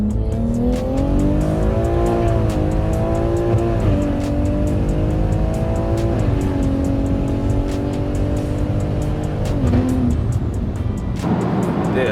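A car with new wheels drives a timed run, its engine droning loudly and steadily throughout with rising and falling revs, with no talking.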